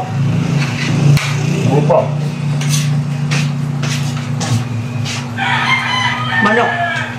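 A chicken clucks and a rooster crows several times nearby, over a steady low engine-like hum, with other faint farmyard sounds between the calls.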